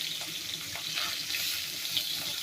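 Hilsa fish pieces frying lightly in hot oil for a mustard hilsa dish, a close, steady hiss and crackle with no talk.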